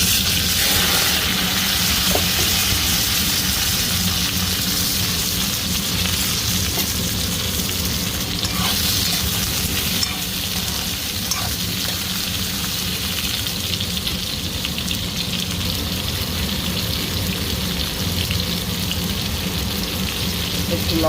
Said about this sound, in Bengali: তেল গরম হয়ে গেছে, জিরে দিয়ে দিলাম তেলে, সাথে দিয়ে দেবো ঝিঙে,